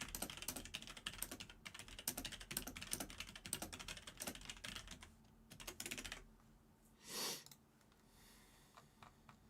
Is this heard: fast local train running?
no